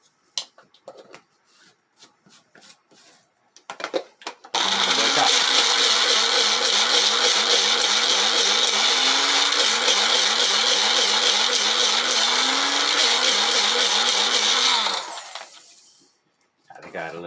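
An electric grinder whirs loudly and steadily for about ten seconds as it grinds homemade chicken feed mixed with garlic, preceded by clattering handling noises and followed by the motor winding down.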